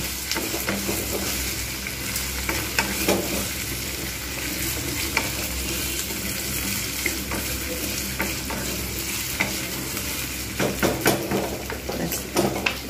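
Onions and taro frying together in a pan for kochu alur dom, continuous close sizzling with repeated spatula stirring and scraping against the pan, no one talking.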